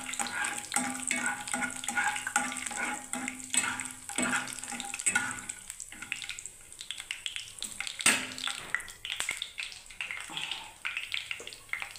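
Peanuts frying in a pan with onion and curry leaves, heard as an uneven sizzle mixed with repeated scraping and stirring strokes, moderately quiet, with no speech.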